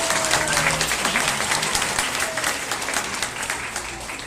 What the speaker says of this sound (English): so I think she deserves a big round of applause.